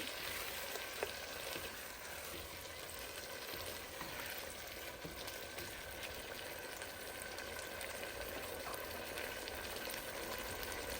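Vegetable pasta being mixed with tomato ketchup in a hot pan: a soft, steady sizzle and bubbling that holds evenly from start to end, fairly quiet.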